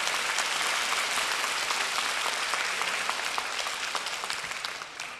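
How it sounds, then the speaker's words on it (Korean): A church congregation applauds during a Sunday service after a choir and a CCM singer perform, producing a broad, even roar of many hands clapping that holds steady before easing slightly at the end. "우리 다시 한번 박수로"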